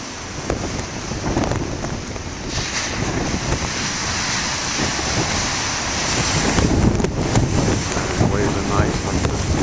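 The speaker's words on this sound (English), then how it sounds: "Man, it's still windy." Strong wind buffeting the microphone beside crashing ocean waves, a loud, continuous roar of surf and gusts that swells toward the end.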